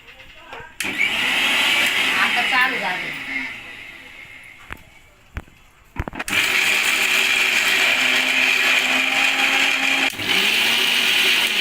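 A mixer grinder whirs loudly in two long bursts, pausing in between with clicks and clatter, while a voice talks briefly over the motor.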